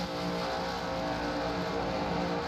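NASCAR Cup Series stock cars racing at New Hampshire in 2009, a loud, continuous engine roar from the pack with steady, full-throated droning and no voices.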